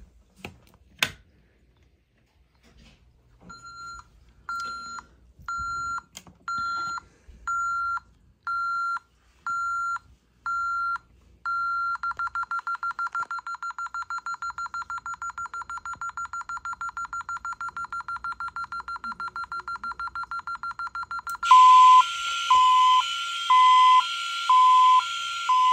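Home security alarm system sounding sharp electronic beeps in repeated bursts, then a continuous rapid pulsing tone, and later a higher, louder alarm with dialing-like tones, close and clear with no talking.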